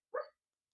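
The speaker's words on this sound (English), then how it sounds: "He barks in his sleep." A sleeping dog lets out a single short, muffled bark close by, clipped and soft, with silence all around it.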